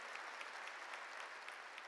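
A congregation claps together during a church sermon, with steady, dense applause filling the space at even loudness and no talk over it.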